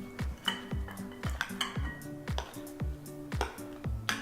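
A utensil scrapes and knocks rhythmically against a bowl as thick gluten-free, sugar-free carrot muffin batter is blended, with soft clinks repeating about every half second and no talk.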